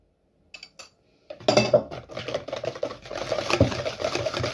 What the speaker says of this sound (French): Je mélange encore bien mes zestes de citron et orange.